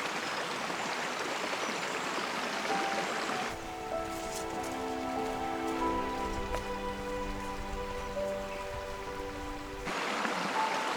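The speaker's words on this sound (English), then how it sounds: "The sound of water brushing against the rocks" Stream water rushing against rocks at a quiet mountain pasture, a steady close hiss of flowing water heard alone, with music covering the middle stretch.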